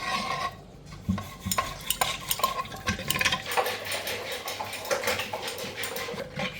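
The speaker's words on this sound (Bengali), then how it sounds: "এবার আমি ডালটা কাটা দিয়ে নেবো" Boiled lentils with added water mashed in a pot for raw mango tok dal, a close busy run of wet churning, scraping and rattling strokes in quick irregular rhythm, no talk.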